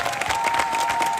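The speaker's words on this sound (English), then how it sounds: "Give a huge round of applause for Joonas Suotamo" Steady applause and crowd noise fill a convention panel hall for Star Wars actor Joonas Suotamo, Chewbacca's performer, a dense even wash of clapping that holds throughout.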